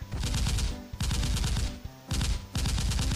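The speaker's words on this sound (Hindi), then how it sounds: "ग्रोजा मशीन गन है, धड़ाधड़ गोलियां चलाती है" Groza machine gun from the video game PUBG firing loud, dense bursts of rapid gunfire: three sustained volleys separated by brief pauses, close and dominant with no talk.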